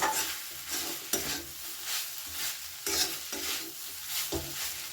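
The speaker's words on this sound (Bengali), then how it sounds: "এবারে গ্যাসের ফ্লেমটাকে হাইতে রেখে সামান্য একটু কিছুক্ষণ এটা ভালো করে নাড়াচাড়া করে নেব" An egg and chicken roll filling is stirred in a pan over a high gas flame: repeated scraping strokes of the utensil over a soft, continuous sizzle, fairly quiet and close.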